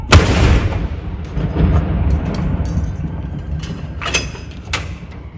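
Royal Artillery saluting guns fire at Edinburgh Castle: one loud boom opens, its rumble rolling on and fading, with later sharp cracks and echoes further off.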